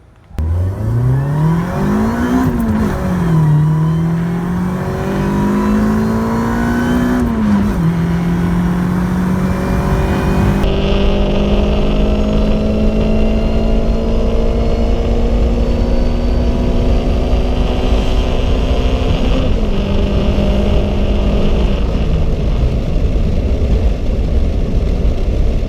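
A turbocharged car on a data-logging drive after tuning runs loud and close: the engine pulls hard and climbs in pitch, drops back at a couple of quick shifts, then holds a steady, strained drone for the rest of the run.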